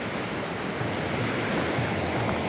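Ocean waves at Kololi beach in Banjul roar steadily as continuous surf, a broad loud wash mixed with wind noise and no talk.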